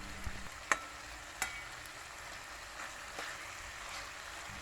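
Boneless curry chicken browning in a pot gives a faint, steady low sizzle, broken by a few sharp clinks of a spoon stirring the pieces early on.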